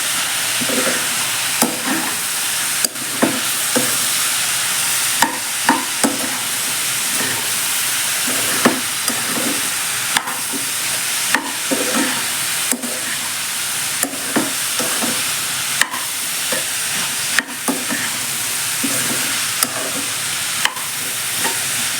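Sliced bitter gourd fries in a hot pan with chili powder, turmeric and salt, a steady sizzle broken by repeated sharp scrapes and clanks of a spoon stirring against the pan, close up.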